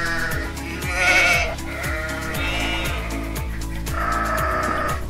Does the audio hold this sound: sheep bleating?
yes